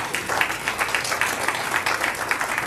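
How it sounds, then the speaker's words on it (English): Applause at a Rochester Rotary Club meeting honoring Peter Glennon on his last day as club president; dense, steady clapping with no voices over it. "so give a round of applause"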